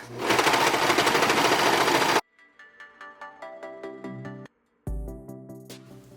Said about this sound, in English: With this cover stitch, you can also do the neckline.